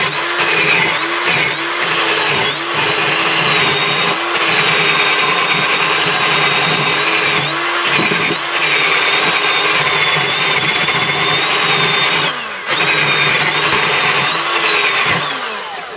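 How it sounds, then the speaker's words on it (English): A drill spinning a wire wheel to scrub loose rust and grime off the front brake parts of a 2001 Buick LeSabre Custom, a loud continuous whir with brief dips and restarts. "now I'm going to take a drill just with a wire wheel"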